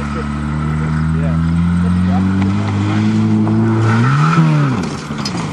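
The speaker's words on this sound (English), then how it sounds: "Now for the car jumps." A beat-up Chrysler LeBaron convertible with a door that won't close revs up on a farm before a jump, its engine note climbing and dipping in strong harmonic sweeps, loud and close, with voices talking over it.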